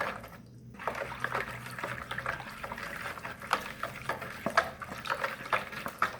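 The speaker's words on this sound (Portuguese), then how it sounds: "Agora eu vou mexer." Margarine is stirred into homemade bread dough ingredients in a bowl, giving soft wet squelching and scraping with irregular clicks of the utensil against the bowl, close and moderately quiet.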